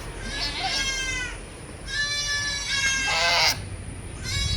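A milking goat bleats repeatedly, loud wavering cries close by, with brief quiet gaps between calls.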